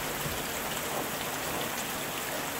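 Steady rain falling as a dense, even hiss of droplets, continuous and fairly loud with no breaks or other sounds.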